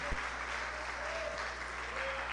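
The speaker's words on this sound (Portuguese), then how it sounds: "Aplauda o Senhor bem forte agora, exalte o nome dele" A church congregation applauding during a sermon, a dense, steady clapping that fills the space with a faint voice carrying over it.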